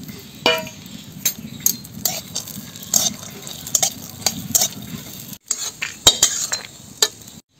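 Chopped almonds, cashews and raisins fry in ghee in a kadai over a soft sizzle, while a spoon scrapes and clinks against the metal in irregular, fairly close strokes.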